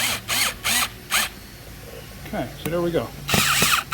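Short bursts from a worn-out power tool gun with a gear going bad, driving screws while reupholstering torn seats; three or four loud whirring pulses near the start and another at the end, with someone speaking in between.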